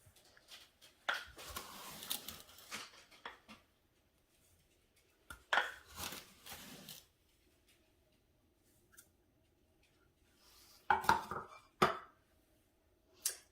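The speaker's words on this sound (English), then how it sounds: "I'm actually using my half cup measuring cup here, so I'm going to do 4 of these to get my 2 cups." A half cup measuring cup scooping sugar, in three separate bursts of gritty scraping and clinking, each lasting one to two seconds, with near silence between them.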